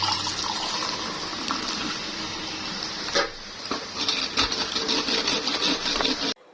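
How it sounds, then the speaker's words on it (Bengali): Hot milk pours into a coffee cup in a steady, close liquid gush that fills the cup for several seconds before stopping abruptly, no talking. "কাপের মধ্যে কফিটা দিয়ে দুধ ঢেলে দেবো"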